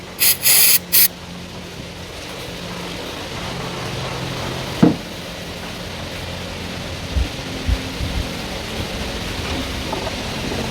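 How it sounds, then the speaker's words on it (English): An aerosol can fires short hissing bursts onto a car's intake solenoid valve during a replacement on a Holden or Chevy. The sprays are quick and close at the start, followed by faint handling clicks and taps. "we're going to spray with this so it's easier"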